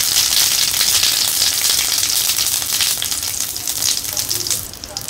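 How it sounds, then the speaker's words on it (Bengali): Vegetables frying in hot oil in a simple village kitchen make a loud, continuous, crackling sizzle up close that eases slightly toward the end, with no voices. "পাশে তেল গরম হয়ে গেছে, দুয়ার বানছে, তো আমি রান্না দিয়ে দিই।"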